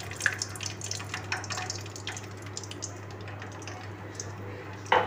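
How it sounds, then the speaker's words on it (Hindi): About 250 grams of cooking oil pours into a pan on a lit stove burner, a soft continuous liquid stream with small drips and a clatter near the end. "अब इसमें हम ये 250 ग्राम कुकिंग ऑयल शामिल कर रहे हैं।"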